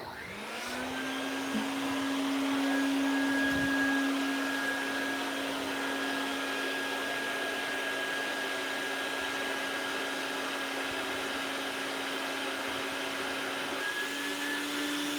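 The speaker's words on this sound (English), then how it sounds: "Okay, here goes the vacuum." A vacuum forming machine's vacuum pump starts up and runs with a loud, steady whine and airy hiss, holding an even pitch throughout while forming clear plastic lenses.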